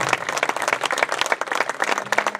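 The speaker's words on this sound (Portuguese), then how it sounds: "os aplausos, muito obrigado." Applause from a festival music audience, dense crowd clapping loud and close with rapid overlapping claps, a voice briefly audible near the end.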